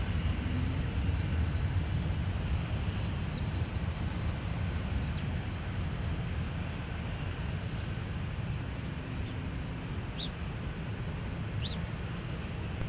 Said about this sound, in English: So our flight from Paris is coming in with a big A330.